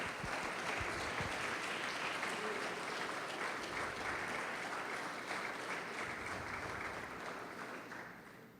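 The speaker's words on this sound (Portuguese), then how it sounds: "Pode aplaudir o Senhor e glorificar a Deus, irmão" A church congregation applauds together, a thick, steady wash of clapping that holds evenly before fading slightly toward the end.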